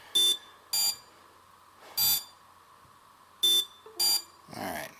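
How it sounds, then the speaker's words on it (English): A series of sharp electronic beeps, five short bursts at irregular intervals, fairly loud, followed by a brief rustle. "unexpected beeping"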